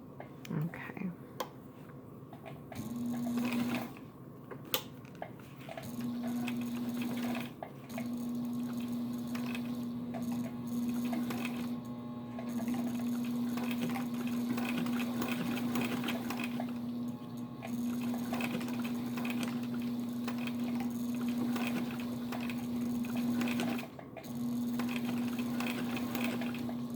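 A sewing machine stitches through thick leather and vinyl with a slow, high-torque drive on a step-down pulley, giving a steady mechanical hum with faint clicks throughout, fairly quiet and without talk.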